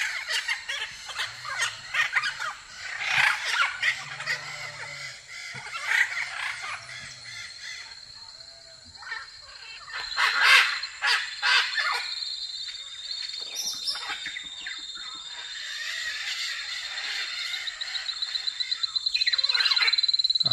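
Parrot squawking on a farm in Brazil, harsh repeated calls in irregular bursts, some loud and near, others fainter, over a thin whistling background with no talk.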